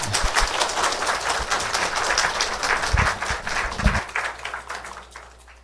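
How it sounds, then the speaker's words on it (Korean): A church congregation bursts into sustained applause, many hands clapping densely and evenly for several seconds before tapering off into a quiet room. "박수로 격려하십시다."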